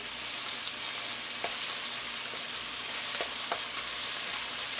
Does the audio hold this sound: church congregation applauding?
no